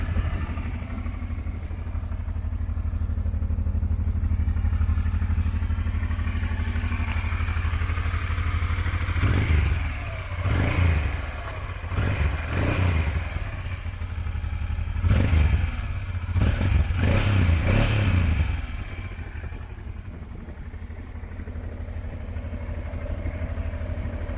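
An old Honda Transalp XL600 enduro motorcycle being hauled up onto its center stand, heard as a few heavy clattering thumps and metallic knocks over a loud, steady idling engine, close by and without talking.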